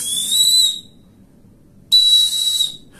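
Two sharp, shrill blasts from a camping survival whistle, each lasting under a second, separated by a short silent gap; loud and close.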